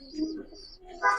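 A large, strong pigeon of good bloodline for sale coos briefly up close, a couple of soft low calls swelling near the end.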